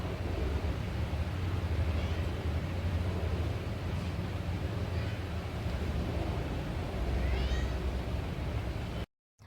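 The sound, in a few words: pet cat meowing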